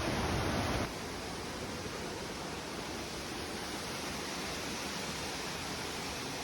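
Kambal Busay Falls: a steady, dense roar of rushing waterfall water that holds constant, slightly louder for the first second, with no voices.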